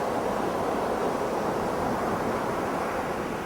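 Ocean waves washing in at the water's edge, heard as a steady broadband wash of surf with a wind-like hiss and no clear breaks, moderately faint and continuous.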